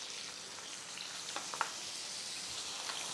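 A flipped steak sizzles in butter in a pan, a steady close frying hiss with small crackles and pops throughout, no voices.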